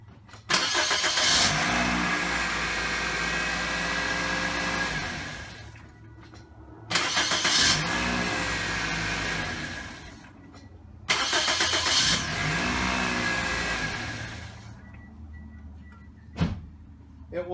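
A 2007 Pontiac Vibe engine is cranked three times in a row, each loud, close start attempt grinding for a few seconds before cutting off, with short pauses between.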